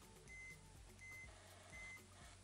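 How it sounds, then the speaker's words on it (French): Three short, steady electronic beeps, evenly spaced about every three quarters of a second, sound clearly over faint background hum while solder joints on a Nespresso coffee machine are tested during a home-automation modification. "Vous entendez les bips."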